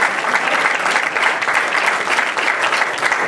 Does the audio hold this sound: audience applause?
yes